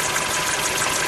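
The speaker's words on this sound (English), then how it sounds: "Here we now have the engine working" Car engine fitted with an HHO fuel cell runs steadily at idle, a close, constant mechanical drone with no speech.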